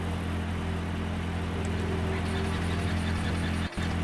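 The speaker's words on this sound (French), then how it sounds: "C'est le moteur en marche." A car engine idles after being started, a steady close drone with a continuous low hum throughout, loud and unbroken apart from a brief dip near the end, no voices.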